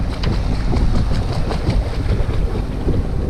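A boat motors along under engine power on the way from Homer to Kodiak, its steady low rumble blending with heavy wind buffeting and rushing water, loud and constant.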